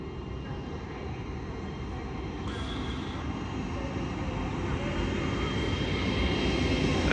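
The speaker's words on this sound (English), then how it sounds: "Departing now will be your 10:02 LNER Azuma service down here at York to London King's Cross" An LNER Azuma train pulling out of York station for London King's Cross, a low steady rumble slowly building in loudness with a faint brief tone partway through.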